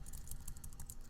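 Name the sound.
typing code on a computer keyboard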